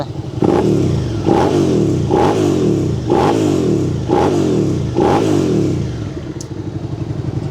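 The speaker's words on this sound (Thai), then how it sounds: "เดี๋ยวเราไปฟังเสียงเครื่องสูบ V กันมานะครับ ว่า มันจะเร้าใจขนาดไหน" A 2019 Suzuki SV650X V-twin motorcycle engine is revved up six times in a steady rhythm, each loud throaty rise falling back to a lumpy idle, recorded close with no talking.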